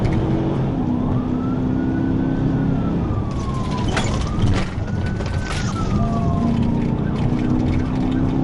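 A police car siren wails during a high-speed pursuit, its rising and falling tone sweeping slowly over loud engine and road noise, close and continuous, with a brief clunk partway through.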